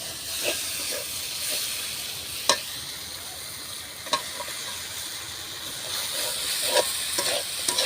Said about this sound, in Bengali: মশলা কষা লেগেছে মাছ দিয়ে দিতেছে